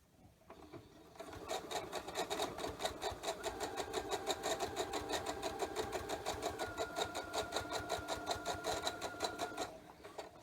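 A serger sewing machine stitches dress fabric in one steady, rapid mechanical run after a short quiet start. Its tight clattering pulse is close and alone, slowing slightly near the end before it stops.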